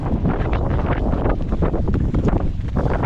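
Strong wind gusts buffet the microphone without a break out on a frozen river during winter ice fishing, a loud rough roar with no other sound breaking through.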